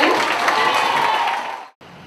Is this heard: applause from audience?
yes